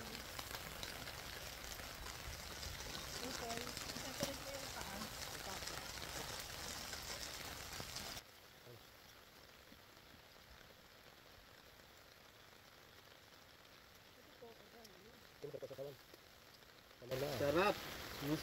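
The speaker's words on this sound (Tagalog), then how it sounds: "Malakas po ang ulan." Heavy rain patters and hisses steadily over a campground in Alberta, Canada, dense and close at first, then much quieter for a stretch before the downpour noise swells again near the end, with occasional faint voices.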